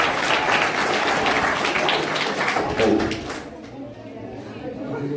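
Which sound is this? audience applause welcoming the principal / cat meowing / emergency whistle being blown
audience applause welcoming the principal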